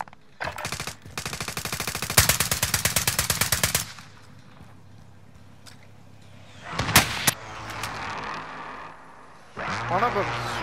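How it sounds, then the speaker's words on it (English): Rapid machine-gun fire from the Call of Duty: Modern Warfare video game rattles in a long loud burst, followed by scattered single shots and a later shorter volley, with quieter game ambience in between. "One of them's shooting from over that way, I think."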